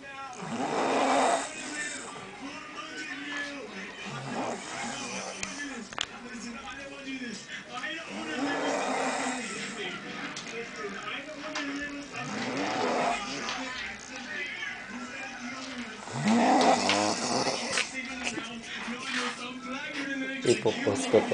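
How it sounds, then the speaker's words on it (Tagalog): A man snoring in slow, regular cycles of rasping, guttural breaths, each lasting a second or two, close and fairly loud throughout. "Patagalin mo muna yung hilik niya man."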